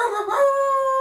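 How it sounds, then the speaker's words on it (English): A dog howls in a long sustained wail that rises and then holds a steady tone, close by and loud, with no other sounds over it. "Shut the damn dog up."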